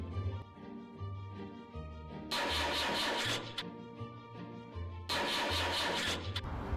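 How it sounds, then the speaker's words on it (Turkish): A car engine is cranked in two separate bursts, each a harsh whirring churn that stops without the engine catching, with quiet background noise in between. "Şimdi de arabayı çalıştıramıyor Nisa."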